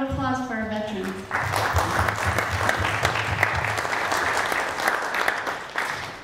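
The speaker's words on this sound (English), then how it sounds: "round of applause for our veterans." Audience applause for veterans on the eve of Veterans Day at a Native American flute concert, starting after a brief flute-like tone and continuing as steady, dense clapping from a room full of people for several seconds.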